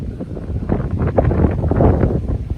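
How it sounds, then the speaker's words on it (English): Strong gusty wind at an island hammock camp buffets the microphone with a loud, continuous roar and low rumble, no voices over it. "Extremely windy."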